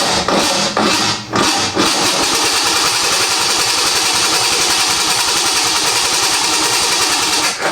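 A project car's starter cranks the engine over steadily without it catching, with a few uneven bursts at the start and then a long, even churning drone, loud and close.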